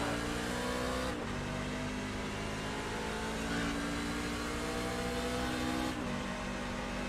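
Race cars accelerating after the green flag in the iRacing sim, loud sustained engine roar with rising revs and shifting tones from a close pack, a sharp gear change near the start and another near the end.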